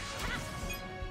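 Crashing impacts in Princess Peach Showtime, a dense, continuous burst of smashing and clattering over game music, loud and sustained for about a second with no clear gaps.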